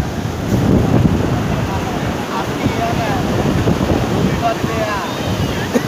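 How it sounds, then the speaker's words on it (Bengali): Sea waves at Juhu beach in Mumbai, a steady broadband wash of surf roaring continuously with heavy wind buffeting the microphone, loud and close throughout. "ঢেউগুলো একটু ডিফারেন্ট কক্সবাজারের থেকে"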